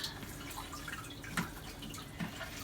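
Water drips from wet paper pulp in a colander, a few faint, soft drops falling at irregular intervals over a quiet background hiss.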